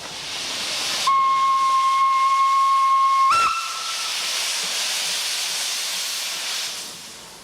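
A steam locomotive releases a loud, continuous hiss of steam, with a steady whistle tone sounding for about two seconds before cutting off abruptly as the hissing carries on.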